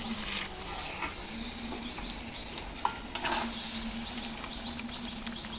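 A steady, fairly quiet sizzle of a whole mutton leg frying in a wok, with occasional scrapes and a brief clatter as the meat is stirred.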